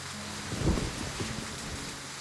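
Rain and thunder in the video game Love and Deepspace: a steady hiss of rainfall with a low, soft thunder rumble swelling briefly near the start, then fading back into the rain.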